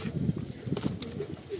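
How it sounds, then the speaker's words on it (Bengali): A male Madrasi pigeon cooing softly in short, low murmurs while being released, fairly close and moderately quiet, with faint rustling around it. "তো আসুন রিলিজ করে দিই পায়রাটা।"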